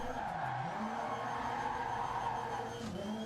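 Rally car in DiRT Rally 2.0 sliding sideways through a gravel stage, a steady engine drone with a dab of handbrake, continuous close roar with rising and falling pitch and a brief gritty swell near the end.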